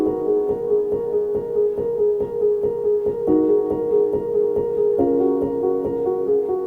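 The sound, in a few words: soft piano from Labs playing chord progression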